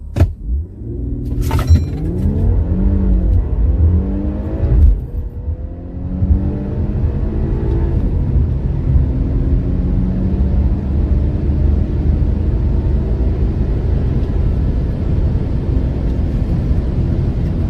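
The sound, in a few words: Infiniti Q50 revving on launch control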